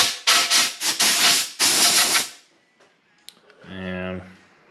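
Compressed air blasts through freshly cut threads on a KTM 300xc dirt bike, several short loud hissing bursts up close, followed by quieter clicks and a brief voice.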